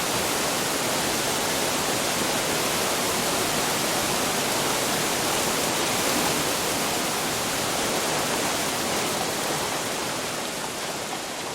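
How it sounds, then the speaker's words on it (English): A loud waterfall in the video game Black Myth: Wukong roars as a steady, dense broadband rush, close and constant throughout with no pauses or voices. "That waterfall was very loud."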